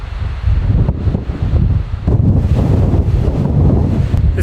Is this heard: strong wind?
yes